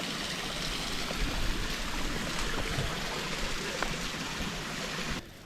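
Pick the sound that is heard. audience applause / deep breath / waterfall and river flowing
waterfall and river flowing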